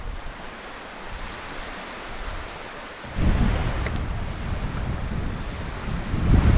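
Easterly wind blowing on the shore at The Knap in Barry, UK, a loud rushing buffet against the microphone that strengthens sharply midway, with surf rumbling underneath and no talk.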